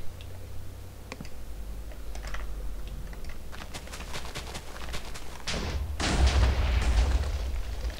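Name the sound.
fireworks exploding in a video game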